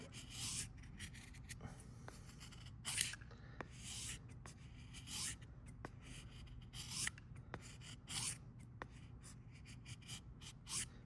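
A bushcraft knife shaves curls off a wooden feather stick, giving quiet, close scraping strokes in an uneven rhythm with brief pauses, and no voices.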